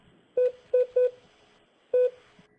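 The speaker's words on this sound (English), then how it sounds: "Now I'm going to dial 911 again." Telephone keypad dialing 911 on a phone line: four short DTMF tones, three in quick succession then a last one after a pause, clear and alone with no talking.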